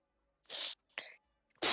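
Someone sneezes indoors: a breathy intake and a brief burst, then a loud, abrupt sneeze at the very end, close and otherwise quiet.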